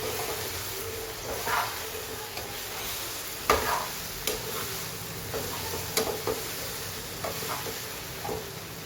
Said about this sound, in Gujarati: હવે એમાં ઢોકળા એડ કરી દઈએ. સરસ મિક્સ કરી લઈએ.